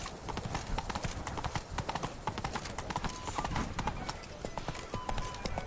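Roach, Geralt's horse in The Witcher 3, running with brisk, regular clip-clop hoofbeats close up, a continuous galloping rhythm over faint ambient game sound.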